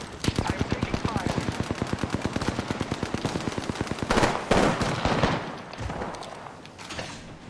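Rapid automatic gunfire from enemies in a shooter video game, a long dense burst of sharp shots followed by a few scattered louder blasts, with no voices over it.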